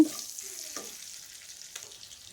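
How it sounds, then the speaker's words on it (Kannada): Bay leaves, green chilies and cumin fry in a kadai, a soft, faint sizzle with a few light stirring scrapes over about two seconds, no talk. "ಸೇಮ್ ಕಡಾಯಿಗೆನೆ ನಾನು ಎರಡು ಪಲಾವ್ ಎಲೆ ಎರಡು ಹಸಿಮೆಣಸಿನ್ಕಾಯಿ ಒಂದು ಸ್ಪೂನ್ ಜೀರಿಗೆ ಹಾಕ್ಕೊಂಡು ಚೆನ್ನಾಗಿ ಹುರ್ಕೋತಾ ಇದ್ದೀನಿ"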